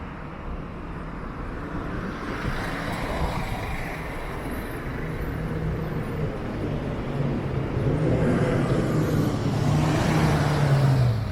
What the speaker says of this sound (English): The traffic does tend to move a lot quicker though.